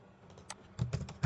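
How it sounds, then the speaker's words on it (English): A few quick keystrokes on a computer keyboard, soft clicks near the microphone, a light tap followed by a short burst of typing in a quiet room. "So I will type"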